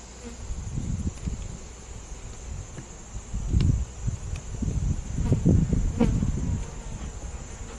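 Honey bees swarm and buzz around an open hive frame heavy with capped honey and pollen, a dense continuous hum with louder surges of close passing bees throughout.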